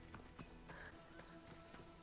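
Horse hooves clip-clopping in the video game Assassin's Creed Odyssey, a steady run of faint, regular thuds under a low game ambience with no talking.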